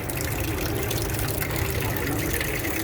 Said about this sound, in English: and the water spurts out